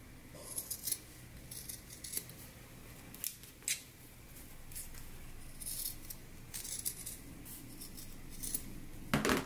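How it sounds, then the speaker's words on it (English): Scissors trimming fabric seams while sewing pants, a series of crisp, close snips spaced irregularly over a quiet room background with no talking. "So now let's go ahead and trim our seams."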